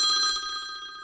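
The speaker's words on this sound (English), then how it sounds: "My daughter, who is in Spain, is just ringing me" A telephone bell rings once, bright and close, the tone hanging briefly before fading, alone in a quiet room.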